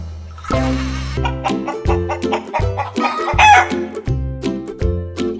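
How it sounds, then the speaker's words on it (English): Chickens cluck repeatedly and close up in a farmyard, with rhythmic bursts of clucking, one crowing-like call in the middle, and a buzzing fly in the background. "Hen."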